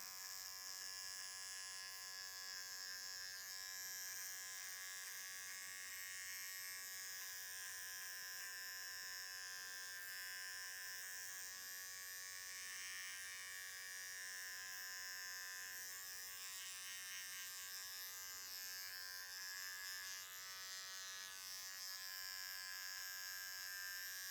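An electric foil shaver buzzes steadily and close, a high, constant whine with slight wavering as it moves over hair.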